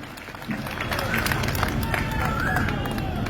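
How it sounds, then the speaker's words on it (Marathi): Loud, steady applause and crowd noise from an audience at a political rally, a dense wash of clapping with murmuring voices underneath throughout. "पूर्ण दक्षिण मतदारसंघाच्या वतीनं जोरात टाळ्या वाजवून त्यांचं अभिनंदन करावं"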